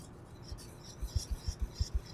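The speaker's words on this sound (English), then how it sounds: "we're just gonna stream this in to our liquid. So we're just whisking this through." A whisk scrapes rhythmically through a quickly thickening sauce in a pan, for Lion's Head meatballs, with a series of soft regular strokes that grow steadier toward the end, quiet and close.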